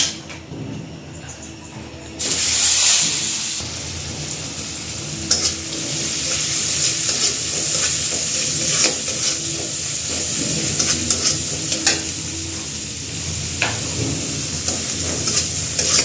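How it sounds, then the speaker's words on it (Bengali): Onion frying in oil in a home kitchen, a steady sizzle that jumps louder after about two seconds, with intermittent scraping and clinks of a spatula stirring through it, no talk. "এখন তেলের ভিতরে দিয়ে দেবো আমি পেঁয়াজ"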